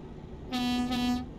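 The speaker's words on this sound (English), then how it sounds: "That's the horn." Air horn of a truck in American Truck Simulator, pulled by its cord: one loud, steady blaring tone of about 0.7 seconds with a brief dip midway, standing alone over low road rumble.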